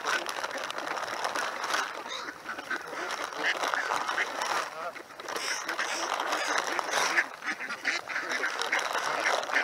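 A flock of ducks flying and quacking at a city lake in Seattle, busy overlapping quacks and honks that stay loud throughout, with people talking over them.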